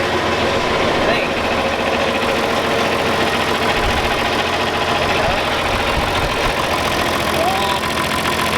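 A John Deere 4020 tractor that sat unused for two years idles after a cold start with a fuel leak, a steady mid-pitched diesel rumble running continuously and loud throughout.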